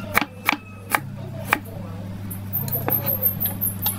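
Onion chopped with a knife on a board, several sharp separate taps in an uneven rhythm, close and fairly quiet, followed by soft kitchen handling noises.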